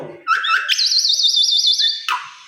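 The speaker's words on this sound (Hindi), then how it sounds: "आज तो माशाल्लाह बहुत ही बातें कर रही है मैना भी हमारी।" A pet mynah bird chatters in a home, giving a loud, close run of rising whistles, then a long warbling trilled whistle, then a sharp closing chirp, with no voices.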